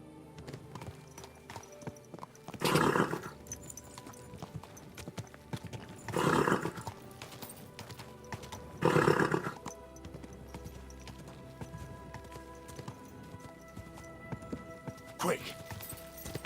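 Horse hooves clopping and a whinny in Kingdom Come Deliverance 2, three louder bursts of hoofbeats and neighing spaced a few seconds apart, with a voice speaking quietly in between.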